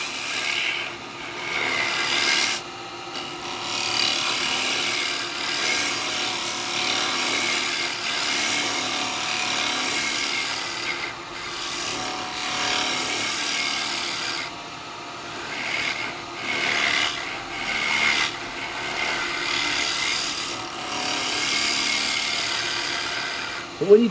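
A chisel back-cutting wet eucalyptus spinning on a wood lathe while turning a hat shape, giving a continuous hissing, scraping tool rub that swells and fades in short strokes, moderately close.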